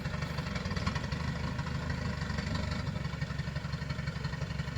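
A Mitsubishi L200 pickup with a 3.5 engine runs with a low, steady rumble and a faint whine above it, recorded fairly quietly and without talk.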